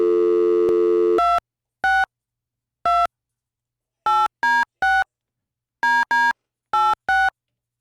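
A telephone call is dialed: a steady tone is followed by a series of short, clean keypad beeps in irregular clusters, loud and close, with no voices.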